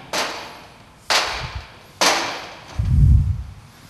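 Hammer blows against a rugged military display screen: three sharp, loud impacts about a second apart, each ringing briefly, followed by a low thud.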